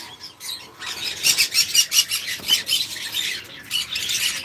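Pet birds at a farm squawk in a string of sharp, repeated bursts, loud and close with brief gaps between calls and no voices.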